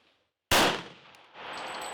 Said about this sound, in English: So now we're going to switch to 45 ACP. We're going to be using my Gen 3 Glock 21.